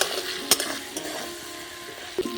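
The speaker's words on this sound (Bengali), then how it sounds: "সেই তেলে আমি শালগমগুলো ভেজে নেব" Sliced turnips seasoned with salt and turmeric frying in hot oil in a karai, a soft steady sizzle with a few sharp clinks of a stirring utensil against the pan.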